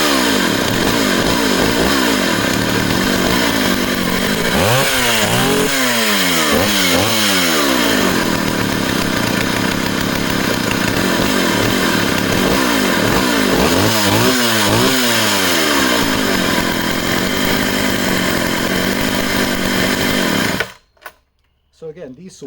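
A Jonsereds Raket chainsaw runs loudly and close for about twenty seconds, idling with several sharp revs rising and falling, then cuts off abruptly near the end.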